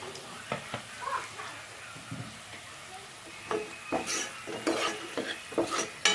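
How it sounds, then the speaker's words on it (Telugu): Onions frying in oil in a pan are stirred, giving a steady sizzle with scraping, clinking strokes that grow busier and louder toward the end; no one speaks. "ఇప్పుడు బాగా మిక్స్ చేసుకున్న తర్వాత ఉల్లిపాయలు లైట్గా బ్రౌన్ కలర్లో వచ్చేంత వరకు వేపుకోవాలి"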